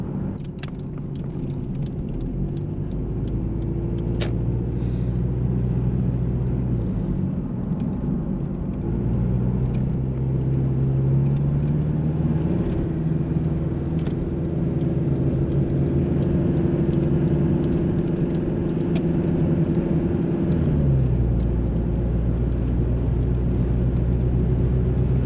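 A 1997 third-generation Toyota Hilux Surf engine drones steadily from inside the cabin while driving, its low harmonic hum rising and falling with gear changes and light throttle, with occasional faint rattles and clicks over the continuous rumble.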